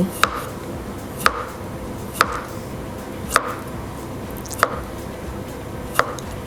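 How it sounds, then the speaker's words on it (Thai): A knife slices palm fruit on a cutting board in six sharp, evenly spaced chops about a second apart, close and crisp against a quiet background. "หั่นไปเลยค่ะ ระวังนิ้วนะระวังนิ้วทุกคน"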